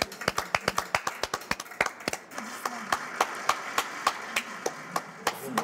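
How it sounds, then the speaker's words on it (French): Visitors clap their hands together in a fairly regular rhythm, a run of sharp, close claps with brief gaps. "Frappez dans vos mains."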